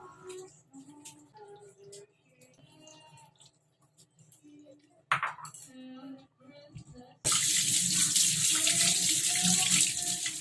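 Anchovies with heads and guts removed being rinsed under a running kitchen tap, water splashing steadily into a sink, loudest and fullest in the final few seconds.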